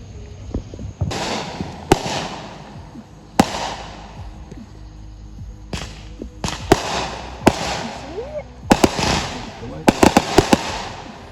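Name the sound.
Fourth of July fireworks seen from a car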